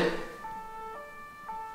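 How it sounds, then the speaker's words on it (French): A faint, wavering siren with stepped tones rises and falls over a short stretch, heard from a distance with no speech. "On dirait une sirène de police."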